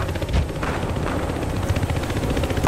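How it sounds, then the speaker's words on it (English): A helicopter in the video game Battlefield Hardline gives off a dense, steady rotor roar with a faint pulsing texture, loud and close, with no voices over it. "Suspect's using a helicopter."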